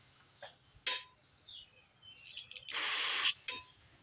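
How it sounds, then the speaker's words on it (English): Short bursts of aerosol spray hissing on a 1982 Snapper Hi-Vac mower left abandoned for years, ending in one longer sustained blast, with quiet clanks and pauses between them, close up. "let's spray those off"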